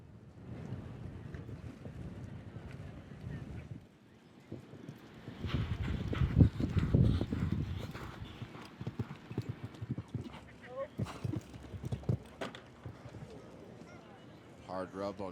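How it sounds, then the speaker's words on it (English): A 13-year-old Oldenburg gelding with a big, open stride canters through a show jumping round, its hoofbeats thudding in irregular clusters under steady commentary and wind noise. "It looks like a very big strided, open strided horse."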